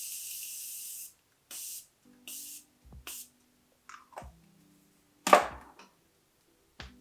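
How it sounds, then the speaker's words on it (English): Morphe Continuous Setting Mist sprayed onto a face: a run of short, close hissing bursts, some long and some clipped, separated by quiet gaps, with light handling clicks and rustles between the sprays. "I'm just gonna spray down my face. This is the Morphe Continuous Setting Mist."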